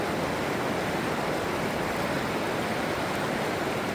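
Steady, dense rush of fast-flowing river water, loud and continuous with no pauses, filling the whole clip.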